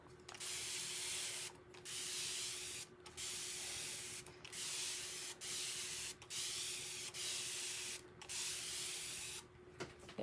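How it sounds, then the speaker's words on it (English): A hand spray bottle mists water onto a T-shirt in a steady series of hissing bursts, each lasting about a second with brief gaps, close up over a faint steady hum. "So I'm just going to spray some water."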